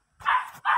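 A small dog in the video game Kitty Cat Simulator gives two quick, sharp barks close by, with a brief pause between them.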